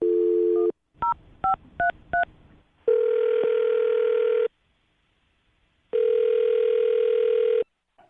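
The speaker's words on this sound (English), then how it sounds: "I'm going to dial her phone number right now." Telephone dial tone followed by a quick series of touch-tone keypresses, then two long ringback tones separated by silence, all clear and close over a phone line.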